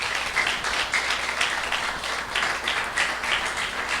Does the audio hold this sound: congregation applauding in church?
yes